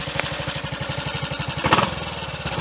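A small Triumph Tiger Cub motorcycle engine runs steadily at a fast, even idle close by, its regular firing pulses holding throughout with a brief rise in revs near the middle.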